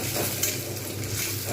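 Onions fry in a generous amount of oil for a vegetarian jackfruit curry, a dense, continuous close sizzle with a faint scrape of stirring and no talking.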